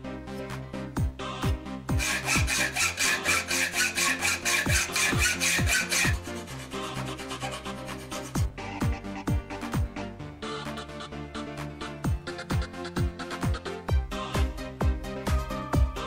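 A Wabeco drill stand used as a drill press bores through a wooden board with a thin bit. It gives a steady, close motor whine with raspy cutting and scraping that swells and eases in repeated passes.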